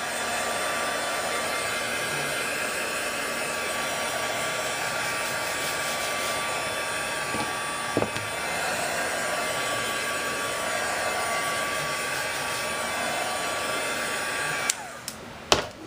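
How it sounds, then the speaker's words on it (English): A heat gun blows in a continuous loud whir for many seconds while it dries Mod Podge on a handmade journal, then cuts off with a few clicks at the end. "I like to give it a shot of my heat gun, not too close or you'll burn it."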